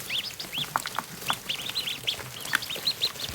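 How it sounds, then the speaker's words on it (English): A brood of newly hatched ducklings in a hatcher peeping constantly close up, high rising chirps overlapping in a busy chorus with faint rustling underneath. "Oh, little duckies."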